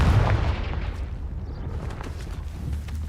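Confringo fire-blast spell from Hogwarts Legacy, a heavy booming blast at the start followed by a rumbling, crackling decay with a few smaller pops, loud and close.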